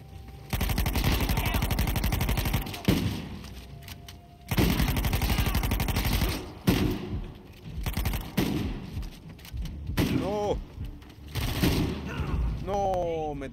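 Sustained automatic gunfire in Uncharted 4: A Thief's End sounds as long rapid bursts that stop and start, loud and dense, with players talking between and over the shots.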